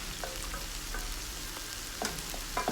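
Chopped ginger and garlic cooking in a pan over a low flame give a steady soft sizzle, with occasional light scraping as they are stirred, heard close up.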